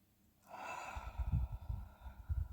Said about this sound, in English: Take a deep breath now. Really nice, slow, deep breath right down to the bottom of your lungs.